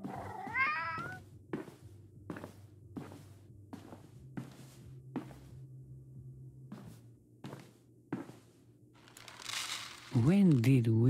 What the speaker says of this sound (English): When did we get a cat?